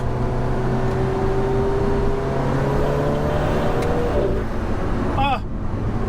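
An Alfa Romeo 4C Track Edition's engine drones steadily from inside the car while driving, a low sustained hum with a rising tone near the end, heard under a voice.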